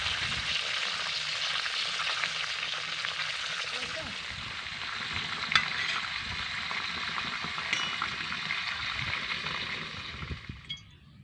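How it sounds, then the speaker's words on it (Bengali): Pointed gourd (potol) pieces sizzle in hot oil while a strainer scoops them out, with a few metal clinks over the steady frying hiss, which thins and fades near the end. "পটলগুলো আমার ভাজা হয়ে গেল। এইবার একটা ছাকনা দিয়ে তেল থেকে তুলে দিচ্ছি।"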